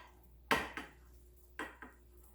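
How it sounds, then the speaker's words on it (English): A spatula spreads globs of chocolate across a baking pan for oatmeal fudge bars, giving two scraping strokes, each a sharp scrape with a quick follow-up, close and fairly soft, separated by quiet. "And I'm using a spatula to spread."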